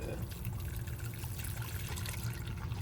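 Homemade almond milk pours and trickles through cheesecloth into a bowl, a steady close liquid splash and dribble running the whole time with no talk over it.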